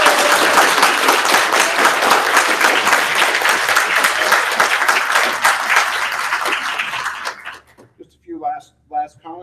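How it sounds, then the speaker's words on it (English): A symposium audience breaks into loud, sustained applause that rolls on for several seconds, then thins out and stops, after which a voice begins speaking over the quiet hall. "So let's give them a big round of applause"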